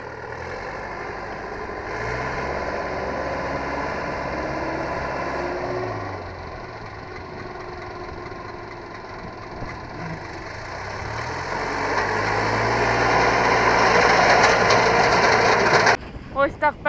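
A tractor runs a WIRAX Z-069 1.65 rotary mower through an alfalfa field, giving a steady engine drone with a whirring cut that swells louder toward the end before cutting off.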